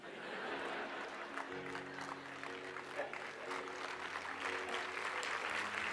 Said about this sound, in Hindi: विद्यार्थी ज्यादा ताली बजाते हैं